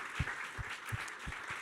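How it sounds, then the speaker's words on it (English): An audience at a Sonar music industry and blockchain event applauds, a faint, distant patter of clapping that fills the short moment without voices. "I think they deserve an applause as well."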